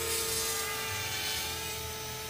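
A DIY quadcopter in flight gives off a steady, dense motor whir and buzzing drone, loud and continuous throughout with slight pitch wavering as the throttle shifts.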